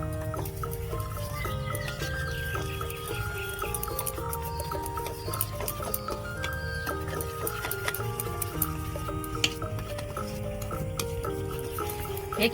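Spoon or whisk beating mango cake batter mixed with baking powder and milk in a bowl, rapid continuous scraping and clicking that lasts throughout, close and fairly loud over soft background music.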